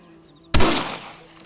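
One rifle shot in Red Dead Redemption, a single sharp, loud crack that rings out and fades over about a second after a quiet moment, with no talk.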